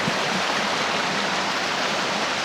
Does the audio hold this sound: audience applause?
no